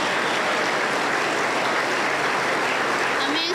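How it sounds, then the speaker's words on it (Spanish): Members of a Pentecostal church congregation in Huancayo, Peru, applaud a youth choir with thick, continuous clapping that stays even and fairly loud, with a faint tone creeping in near the end. "Vamos a recibirle con fuerte aplauso para el Señor Jesús"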